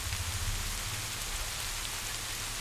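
Rain falling as a background effect in a suspense audio story, a steady, soft wash of dense raindrops with a low rumbling undertone, continuous and fairly quiet, with no voices.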